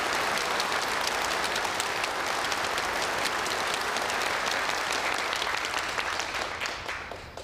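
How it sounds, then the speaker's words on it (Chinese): An assembled audience at a meeting addressed by a central representative claps steadily and loudly, a dense, sustained wash of hands that tapers slightly at the end. "鼓掌"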